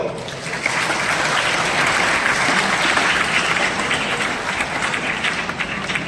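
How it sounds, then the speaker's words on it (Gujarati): An audience at a taluka-level youth festival held in a high school applauds to welcome a guest, a sustained burst of many hands clapping that swells in and holds steady for several seconds. "તાળીઓથી આપણે વધાવીશું"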